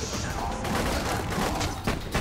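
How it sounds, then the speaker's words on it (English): A missile launcher fires in Borderlands 2, a dense, continuous burst of blasts and crackling impacts roaring close and loud for a couple of seconds without a break. "let's test out my new missile launcher of greatness"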